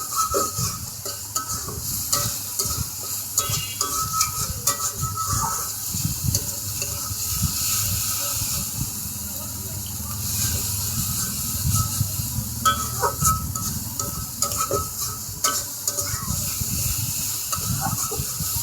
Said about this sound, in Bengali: গ্যাসের ফ্লেম অনেকটা লো করে দিয়ে ভালো করে মশলাটাকে কষিয়ে নিচ্ছি